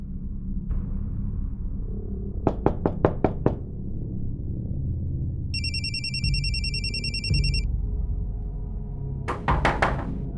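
A telephone rings with an electronic trill partway through an indoor scene, amid several sharp knocks and thuds and a low steady background rumble.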